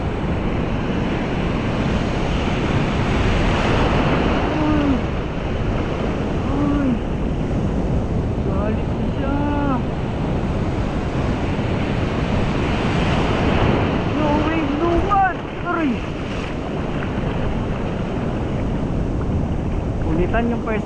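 Ocean surf breaking and washing in steadily against strong wind buffeting the microphone, loud and continuous, with faint voices and whooping shouts mixed in.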